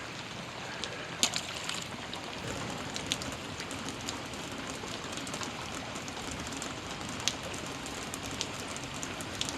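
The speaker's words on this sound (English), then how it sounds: "it's raining on your first day of vacation and you're out here fishing" Steady rain falls through the night on the Bon Secour River around a fishing spot, a dense even hiss with a few sharper drops and splats, close and constant for the whole stretch.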